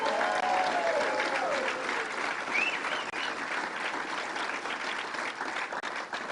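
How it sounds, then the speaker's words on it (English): Crowd at a public announcement event about a state fair gives a sustained round of applause, steady and fairly loud throughout, with faint whistles and no clear talk. "Let's give him a round of applause."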